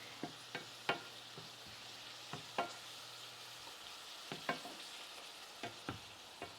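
Ground venison frying in a pan with a steady low sizzle, while a utensil scrapes and stirs it in sharp, irregular clicks and taps spread through the clip; no talking.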